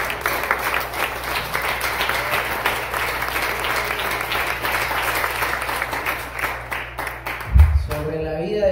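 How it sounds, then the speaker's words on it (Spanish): A church congregation applauds together in steady, sustained clapping that fills the room for several seconds, then breaks off, and a voice begins speaking at the end. "¿Cuántos damos aplausos al Señor?"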